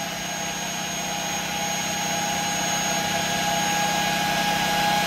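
A Tesla turbine spins at high speed, around 38,000 RPM, giving a steady, continuous whine with fixed high tones over a rushing hum that slowly grows a little louder.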